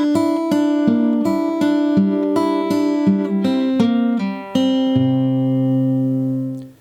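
Guitar in standard tuning playing the intro of a song at a slow pace, evenly spaced picked notes ringing over each other before a final chord fades out, close and solo.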